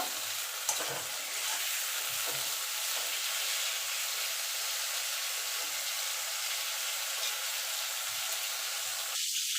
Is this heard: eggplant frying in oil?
yes